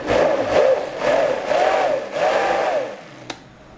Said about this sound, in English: you can just run your blender on low